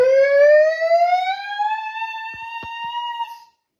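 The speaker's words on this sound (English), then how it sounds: "That's the sound of the police!" A police siren from a comedy film, a single rising wail that climbs steadily and holds, loud and close, with a few faint clicks and no talking.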